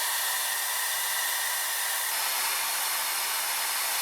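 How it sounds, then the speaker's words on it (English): Hair dryer fitted with a diffuser blowing on wavy hair, a continuous loud airy whoosh close by, steady throughout with no talking. "and now more diffusing"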